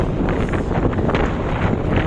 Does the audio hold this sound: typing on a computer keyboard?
no